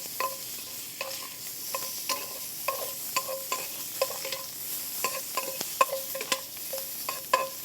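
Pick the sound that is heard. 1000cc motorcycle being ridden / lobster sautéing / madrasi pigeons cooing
lobster sautéing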